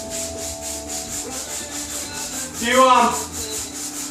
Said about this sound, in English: 150 sponge or something over top of it, so you get all the 100 grit scratches out